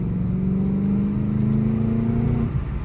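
A car engine with a manual gearbox hums and revs steadily from inside while driving, its pitch climbing gradually before easing off near the end.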